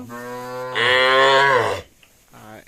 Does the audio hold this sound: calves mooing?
yes